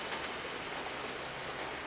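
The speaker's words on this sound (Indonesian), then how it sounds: "saya mendapati ternyata hujan mulai turun" Rain begins to fall over a riverside village in West Sumatra, making a continuous even hiss of water that holds steady throughout, with no talking.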